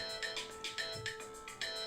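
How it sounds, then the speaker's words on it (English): A phone notification alert plays alone, a repeating electronic chime in quick, regular pulses, close and clear. "that's just my phone telling me that my channel is doing a live stream"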